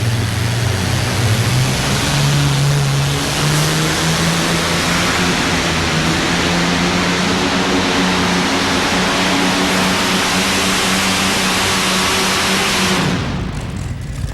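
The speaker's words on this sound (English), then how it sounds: "Look at the flames out of that Allison Aircraft engine." A modified pulling tractor powered by an Allison aircraft engine makes a run at the 1993 National Farm Machinery Show championship tractor pull in Louisville, Kentucky. It gives a loud, continuous roar whose pitch climbs steadily, then cuts off near the end.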